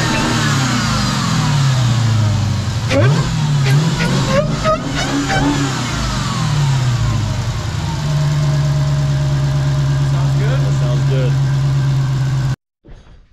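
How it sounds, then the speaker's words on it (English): A Dodge Challenger Hellcat fitted with a Corsa air intake cranks and fires up, revving loudly before settling into a deep, steady idle rumble close by, with voices talking over the start. "So let's start the car"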